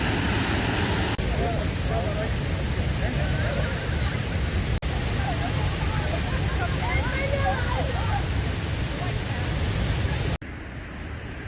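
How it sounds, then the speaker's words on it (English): The Lechfall waterfall on the Lech river roars as a loud, steady broadband rush of falling water, with faint voices talking beneath it. "Lech is the name of the river, so a good guess was Lechfall was some kind of waterfall."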